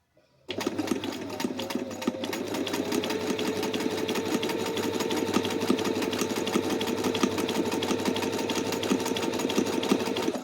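A sewing machine stitches a buttonhole freehand, running as one steady, loud, close mechanical whir with a fast even needle rhythm from start to finish and no talking.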